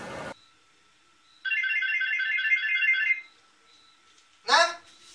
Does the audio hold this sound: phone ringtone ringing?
yes